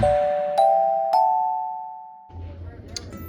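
Three bright electronic bell dings ring out in quick succession with long ringing tails, a subscribe-reminder chime, followed by faint indistinct talk.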